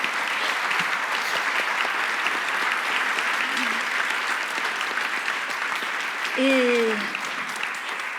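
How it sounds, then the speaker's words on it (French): A full audience gives the panel speakers a roaring round of applause at the close of a French science colloquium session. The clapping is dense and continuous throughout, and a voice briefly cuts in near the end. "Merci de faire un tonnerre d'applaudissements pour nos intervenants"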